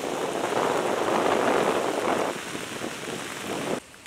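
Heavy rain pours down on a flooded road in Accra, a dense, loud hiss that holds steady, eases slightly partway through, and then drops off abruptly near the end.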